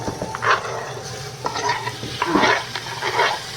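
Chopped tomatoes fry in a hot pan as a utensil stirs them, giving a steady sizzle broken by scraping strokes, close and moderately loud with no voices.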